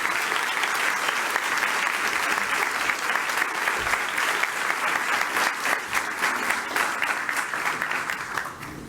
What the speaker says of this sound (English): Please join me in giving her a round of applause as we welcome her to the stage.